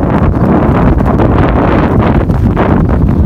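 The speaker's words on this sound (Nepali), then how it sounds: "हावा निकै बेसुरले चलिराखेको छ" Strong wind roaring steadily over the microphone in Marpha village, a continuous loud buffeting gust with no speech, rustling throughout.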